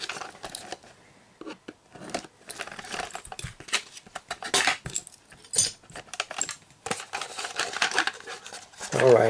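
A toy, a Corgi model, is cut free from its cardboard and plastic packaging with a knife, giving close, irregular scraping, snipping and crinkling sounds in bursts, with rustling handling noise throughout.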